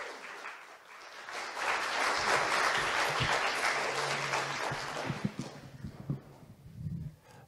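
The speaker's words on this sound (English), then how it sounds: "maybe we can applause and welcome Raymond before he starts" Audience applause welcoming poet Raymond Antrobus at the WayWORD 2022 literary event in Aberdeen, swelling into sustained clapping, then thinning into scattered claps and small sounds as it dies away.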